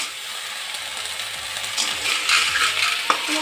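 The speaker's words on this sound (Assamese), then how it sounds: "শামুকখিনি অলপমান ভাজি ল'ব" Snails fry in spiced masala in a pan with a steady bright sizzle, close up, and a utensil scrapes and clinks against the pan now and then.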